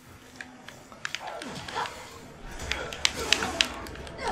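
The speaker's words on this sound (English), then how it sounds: "There's a dog." A dog in the Resident Evil 6 video game barks in a few sharp bursts toward the end, mixed with game noise, footsteps and taps during co-op play.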